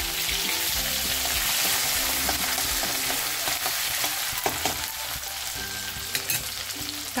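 Ginger, garlic and chili hit hot oil in a heated kadhai for village-style cooking, a loud close sizzle with steady stirring scrapes and sharp spattering pops.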